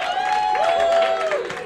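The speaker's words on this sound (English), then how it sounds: "Another round of applause for Evan Fitzgerald" Audience applause and cheering fill a roast battle comedy show, a steady, dense clatter of many hands that stays loud throughout, with a sustained tone riding over the crowd.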